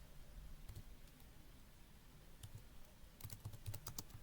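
Fingers typing on a computer keyboard to enter values into a spreadsheet: faint, sparse key clicks over a quiet hiss, ending in a quick burst of several keystrokes.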